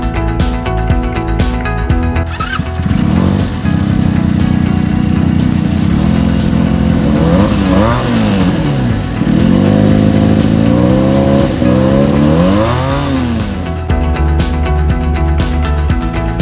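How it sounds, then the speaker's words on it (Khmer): A Benelli TNT 300 motorcycle engine revs loudly and continuously, its pitch climbing and falling through repeated throttle blips, heard up close with no talking. "Benelli TNT 300 មានសំឡេងឮធ្ងន់ល្អដូចម៉ាស៊ីនកម្លាំង 600cc"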